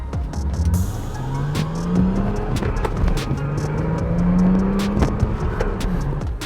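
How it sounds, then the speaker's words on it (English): A used BMW is driven hard on a road test. Its engine revs rise and fall through repeated acceleration pulls, with clicks and tire noise close by and no talking. "once you're out of view of the dealership, make sure to also drive the car really hard."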